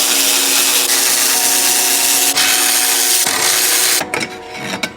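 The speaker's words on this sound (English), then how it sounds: "This rubber piece right here needs to be pulled off." Rubber piece being pulled off an Audi S4 strut tower: a continuous close scraping and rubbing, with a sharp snap partway through and a sudden drop to quieter handling near the end, no speech.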